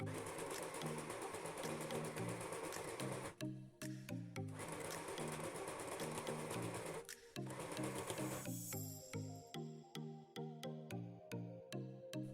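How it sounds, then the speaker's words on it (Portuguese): A sewing machine stitches elastic onto a pair of shorts in quick bursts, running steadily, pausing briefly, then sewing in short stop-start runs toward the end, close and fairly quiet with no voices. "Deixa esticado e vai costurando."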